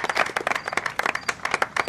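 A handful of people applaud nearby, steady rapid hand claps overlapping in a lively, continuous patter for a couple of seconds, with no voices.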